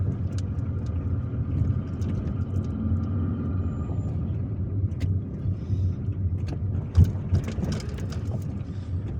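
A car driving through the streets of Algiers, a steady low engine and road rumble from inside the cabin with occasional clunks and bumps, one sharp thump near the end, no talk.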